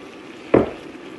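Soy meat sauce in a pan sizzles up in one short, sharp burst as soy sauce is poured in, then settles back to a faint, quiet simmer.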